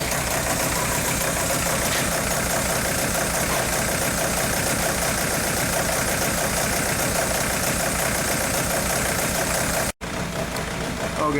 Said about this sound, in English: The engine is still misfiring.